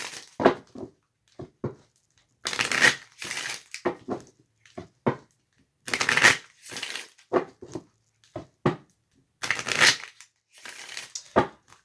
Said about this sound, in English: I'm going to pull a couple of Romance Angel cards.